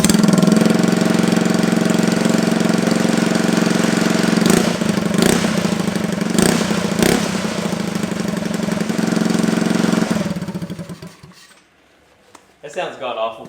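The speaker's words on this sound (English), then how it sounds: "We're gonna fire the bike up just straight pipe like this" A 2022 Honda Navi motorcycle with a straight pipe exhaust idles loud and rough up close, with rattling from nearby metal, blips a few times, then cuts off to quiet.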